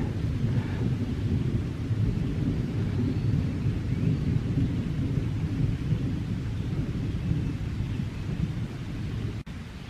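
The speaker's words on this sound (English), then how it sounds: "It's raining, but I'm not feeling it yet because of the leaves on the trees." Steady rain falls through the leafy trees of a park on a dark morning, a dense continuous hiss and patter with low rumbling beneath, no voices.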